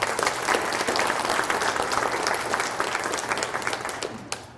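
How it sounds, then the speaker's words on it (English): Audience applause for students at a youth pride event at Lambeau Field, steady dense clapping filling the space throughout before easing off at the end. "Can we give all of our students a round of applause real quick?"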